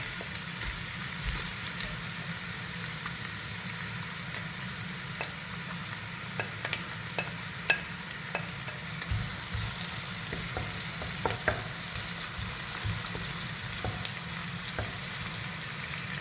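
Garlic sizzling in hot oil in a frying pan for a Kerala-style rabbit roast, a steady close crackle and hiss with occasional sharp pops and stirring clicks, no voices.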